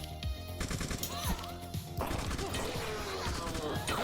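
Shotgun blasts in the cyberpunk melee-focused boomer shooter Beyond Sunset: a rapid series of loud, punchy shots and crashing impacts, closely spaced and continuous, with no pause between bursts.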